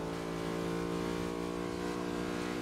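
A car engine at full throttle in the racing game GRID drones steadily and loudly, holding a constant high-revving hum on a long straight with no breaks.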